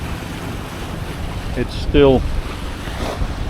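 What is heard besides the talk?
sea waves around a sailing boat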